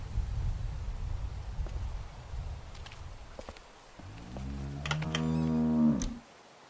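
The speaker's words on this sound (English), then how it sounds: "Do you want to pet the cow with me?" A cow on a farm in The Walking Dead video game gives one long, loud, close moo near the end, after rustling and footsteps in hay.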